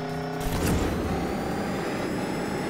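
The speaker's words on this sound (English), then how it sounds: "Yes, let's validate your track with the fucking tractor." A tractor engine in a video game drones steadily at moderate loudness, with a brief rise in revving near the start and a continuous mechanical hum throughout, no talk.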